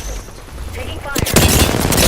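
Bursts of rapid automatic gunfire from the video game Apex Legends erupt loud and close partway through, following quieter game ambience.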